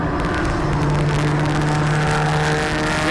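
Volkswagen Polo race cars compete in a 2021 MRF MMSC Volkswagen Championship race, producing a loud, continuous engine drone with a steady held tone and no voices.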